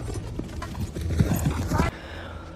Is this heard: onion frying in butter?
no